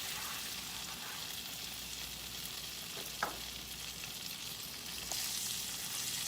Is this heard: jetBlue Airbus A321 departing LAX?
no